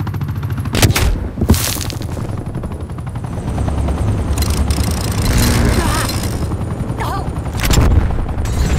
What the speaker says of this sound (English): Sitrep, helicopter above.